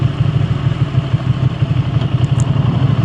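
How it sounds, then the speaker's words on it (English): A Ducati Panigale V2 sport motorcycle with stock exhaust idling steadily with a low, even, pulsing rumble and light mechanical clatter, close and continuous, no talking. "the sound of this bike stock versus the stock of the new V2"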